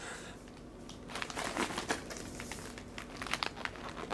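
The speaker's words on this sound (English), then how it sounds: "Probably should start to get rid of a little bit of this wrapping paper just to help out." Wrapping paper crumpled and crinkled during a wooden toy train unboxing, a continuous close rustle with sharper crackling bursts throughout, no talking.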